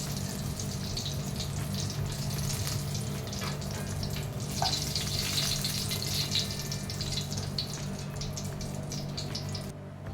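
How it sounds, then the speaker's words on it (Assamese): Vegetables such as eggplant and cauliflower frying in oil as bhog for a Laxmi Puja meal, with a steady close sizzle and crackle running throughout and no talk. "এনেকুৱাকৈ গোটেইখিনি ফ্ৰাই কৰি ল'ম যিখিনি মই ফ্ৰাই দিম 5 বিধ"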